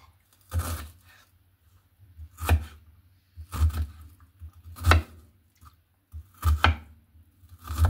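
A knife chops onion, celery, tomato and mango on a cutting board in short bursts of quick, crisp cuts, with brief pauses between the bursts, close and fairly loud.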